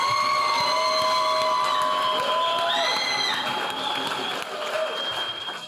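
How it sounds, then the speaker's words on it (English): A crowd at the CCC Emancipation King & Queen Competition gives a loud round of applause, dense clapping mixed with whoops and high cheering voices, sustained and close before tapering slightly at the end. "Please give her a loud round of applause."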